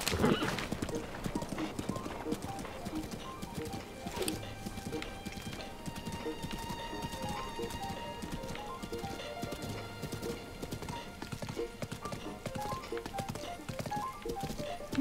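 A horse gallops in The Legend of Zelda: Breath of the Wild, with rapid steady hoofbeats throughout, a whinny near the start and game music playing along.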